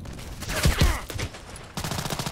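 Rapid bursts of RFB rifle fire in the online shooter Contract Wars, several close, sharp shots clustered early, then a second flurry near the end with a brief lull between.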